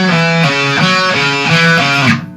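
Distorted electric guitar playing a slow lick from a song's solo, a handful of sustained, connected notes with bends, loud and close, with no talking.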